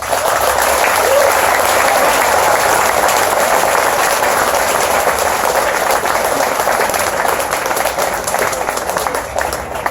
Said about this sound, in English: one more round of applause for Barbara Holmes and Nainoa Thompson